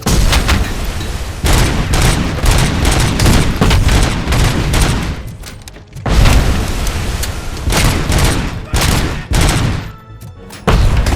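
Grenade blast amid combat in RoboCop: Rogue City: loud, dense bursts of booming gunfire and explosions in rapid succession, with a short lull before another heavy round of blasts and rattling shots.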